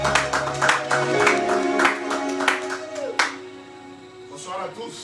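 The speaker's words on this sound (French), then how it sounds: "Est-ce qu'on peut acclamer encore?" A church congregation claps in a burst of rhythmic applause, mixed with voices and some musical tones, before the clapping fades out.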